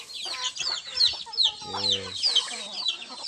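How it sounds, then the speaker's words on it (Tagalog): Native chickens fed on organic feed cluck and peep while eating, a flurry of short, sharp calls close by with one longer, drawn-out squawk midway; a brief spoken word comes in. "Ito yung mga manok ko. Yan sila guys, kumakain"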